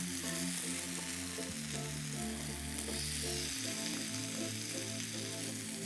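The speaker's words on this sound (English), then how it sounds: "I'm just charring, which is a posh word for burning my cucumber." Cucumber charring in a hot pan, a loud continuous close sizzle with a low hum droning underneath throughout.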